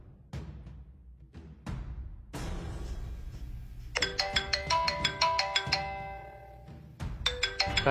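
A phone ringtone for an incoming call chimes in repeated bright melodic bursts, loud and close, over indoor room noise.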